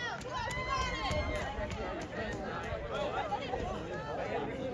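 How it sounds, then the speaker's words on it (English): Crowd of spectators cheers and chatters through a high school JV 1600m race held in blizzard conditions, a steady, dense hubbub of voices with wind noise throughout. "There's everybody cheering."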